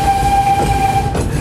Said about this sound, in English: So we're aboard the picnic train now, on our way up to Abergynolwyn once again.